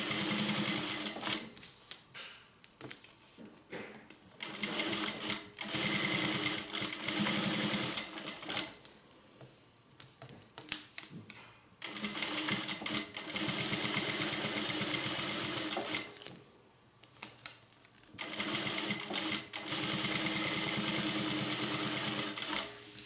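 A sewing machine runs in repeated bursts of steady mechanical whirring while stitching fabric for a homemade hippie van project, pausing briefly between runs; close and fairly loud, with no talk.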